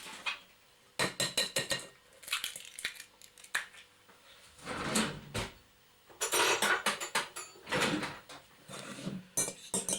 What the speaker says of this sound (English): Whiz them round, mix them round.